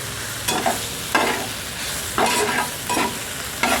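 Arum leaves fry in a pan, a steady background sizzle broken by four or five scraping stirs at irregular intervals, close and clear with no voices.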